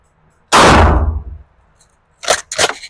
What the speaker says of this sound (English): My first shot with the Magpul stock.